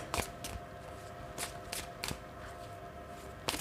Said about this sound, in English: I'm going to pick 3 more cards.